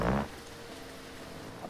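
Rain in the BeamNG driving game on a rally car, a soft, steady hiss of falling rain that follows a brief louder burst at the start.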